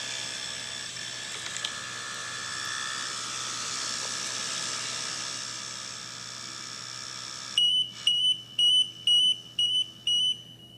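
An oxygen level monitor alarm goes off after a long stretch of steady hum and faint room noise: a series of six sharp, loud electronic beeps in a regular rhythm near the end, with no talking.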